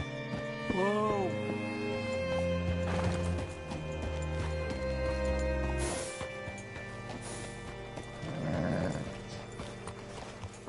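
In a video game, horse hooves clip-clop and a horse whinnies once early on, with a voice talking over the steady hoofbeats.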